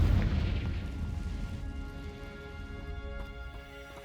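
A deep booming blast from the Confringo fire spell in Hogwarts Legacy hits loud at the start, then decays into a lingering rumble with faint tonal shimmer trailing off.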